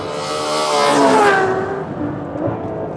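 Ferrari F12 V12 engine with 730 brake horsepower accelerating hard, a loud rising engine note sweeping upward then easing off, close and sustained with no talk.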